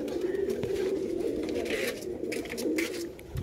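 A breeder pigeon coos in a loft, low, throaty rolling calls repeating close by over a steady background murmur, with no talk.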